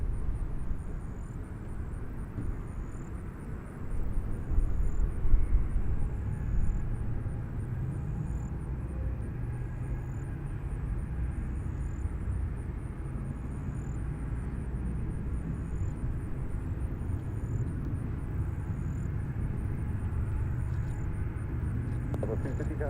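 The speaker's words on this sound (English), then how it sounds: "Southwest 3206 Nashville Tower, runway 20 center, turn right heading 275, cleared for takeoff" A Southwest airliner takes off from runway 20 center at Nashville International Airport, a steady, fairly distant engine roar that swells briefly and then holds, with radio voices talking over it.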